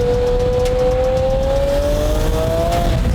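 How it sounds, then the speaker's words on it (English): A twin-turbo Lamborghini Murcielago SV engine lets out a loud, steady high-pitched whine that rises slowly in pitch over a dense rumbling drone, heard from close inside or near the car. "it's still got the whine, the high pitch"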